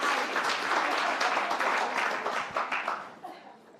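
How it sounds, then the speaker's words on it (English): An audience at a women-in-energy summit applauds, a dense, close burst of clapping that holds steady and then tapers off toward the end. "Let's give her a round of applause."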